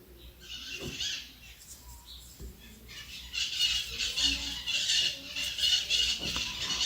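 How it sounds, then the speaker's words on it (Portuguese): Birds sing outdoors in nearby trees, a busy stream of high chirps and twitters that grows livelier partway through, heard at moderate distance with a few soft handling sounds and no talking. "os passarinhos estão cantando a beça"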